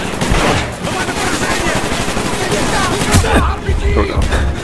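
Automatic and single gunfire from an AK rifle and a pistol in the 2010 shooter game Call of Duty: Black Ops, loud and dense bursts running throughout amid battle noise, with a voice speaking over it.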